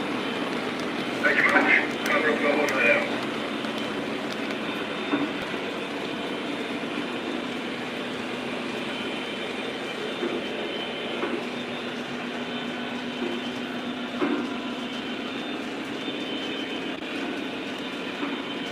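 Lionel and MTH model trains run on a Conrail-themed layout, giving a steady mechanical rumble and whir throughout, with brief louder clatter near the start and faint talk mixed into the background.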